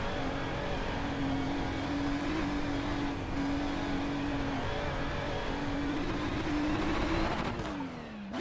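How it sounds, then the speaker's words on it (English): Race car engine in the iRacing sim during a 24 Hours of Lemons championship race, a loud continuous high-revving drone held near the limiter with slight pitch wobbles, then a brief dip at the end. "I was bouncing off rev limiter."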